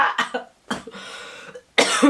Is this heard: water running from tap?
no